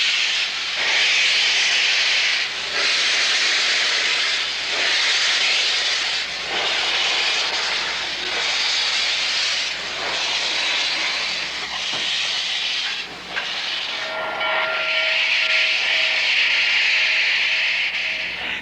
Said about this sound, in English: number 611 moved under steam for the first time in 22 years